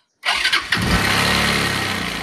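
An old motorcycle engine cranks with a couple of quick bursts, then catches and settles into a steady, loud running rumble, close by.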